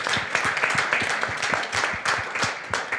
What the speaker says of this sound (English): So I would like to make an applause,